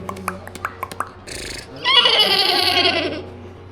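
A boy vocally imitates a horse, producing a rough, wavering neigh-like whinny that rises loudly after a series of short clicks and brief voice sounds, heard close outdoors during a group bike trip stop.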